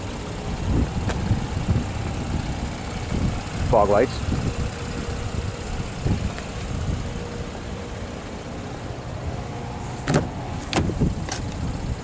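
A 2017 Buick LaCrosse Essence with a 3.6 liter six-cylinder engine and automatic transmission idles with a steady low rumble beneath continuous nearby talk.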